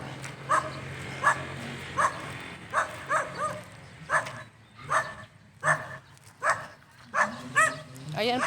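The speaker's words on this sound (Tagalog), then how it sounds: "Ingay naman itong aso." A dog barks repeatedly in short, evenly spaced bursts, fairly close, with a low steady hum in the background.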